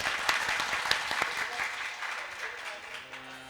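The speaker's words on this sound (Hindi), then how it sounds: "एक बार तालियां बजाओ इनके लिए।" Audience at a devotional discourse gathering claps together in a dense, steady round of applause that carries on for a few seconds, with crowd murmur underneath.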